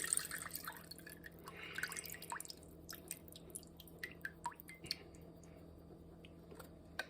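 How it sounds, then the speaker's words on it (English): Juice drains off canned chicken in soft, intermittent drips and small splatters, with a few wet squishy sounds and a low steady hum underneath. "I am going to drain all of the juice off of the chicken."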